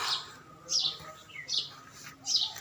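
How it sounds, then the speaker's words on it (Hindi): Small birds chirping near a Hindu temple in spring, several bright, high tweets in short bursts, fairly close, with no talk. "आजकल हमारे यहाँ चिड़ियों के छोटे छोटे बच्चे खूब हैं।"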